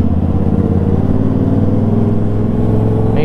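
Toyota Supra fitted with an Akrapovic exhaust, a loud, close, steady engine drone held throughout with a slight swell, no voices.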